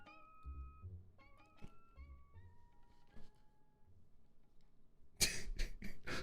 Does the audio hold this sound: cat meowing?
yes